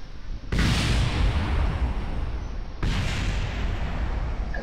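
In Kerbal Space Program, a rocket's engine fires with a sudden roaring blast, then a second loud burst hits midway as the craft crashes, both dense and booming with nothing else heard.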